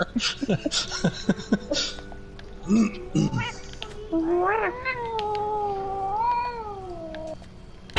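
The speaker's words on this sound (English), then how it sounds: "That was a very unhappy cat." An unhappy cat yowls up close: short meows at first, then long drawn-out wavering cries that rise and fall, loud and insistent, with a few brief noises mixed in.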